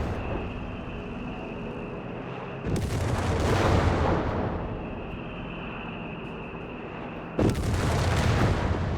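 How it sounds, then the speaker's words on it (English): Artillery fire in the video game Company of Heroes 3: two heavy rumbling barrages erupt and roll on for several seconds each over a steady battlefield hum, with no voices. "Bit of artillery fire there."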